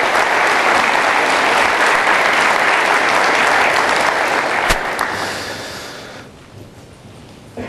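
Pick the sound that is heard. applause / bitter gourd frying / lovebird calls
applause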